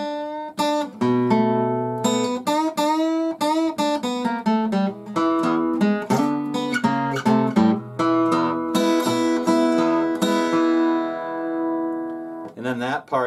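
Acoustic blues guitar plays the introduction to a song, with plucked single notes and chords ringing over a bass on the open sixth and fourth strings, close and clear with no voice.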